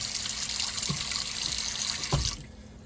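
Water runs from a Moen 7000 series kitchen faucet into a sink as a steady close rushing stream, with a couple of soft splashes, then cuts off near the end.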